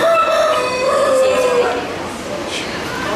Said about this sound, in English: Where's the Batman chicken?